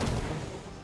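A single forceful bow shot from the Forceful Shot ability in Dark and Darker, one heavy booming release that dies away into a dense rumble.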